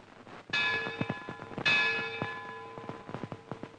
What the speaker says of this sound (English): In a case of such importance, the historic Lutine Bell is rung.